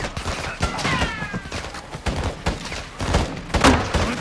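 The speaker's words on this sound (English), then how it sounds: "Get your cover and return fire!" Bursts of rifle gunfire in a Call of Duty Modern Warfare II campaign firefight, sharp repeated shots in quick irregular volleys at close range, with shouted voices and thuds mixed in.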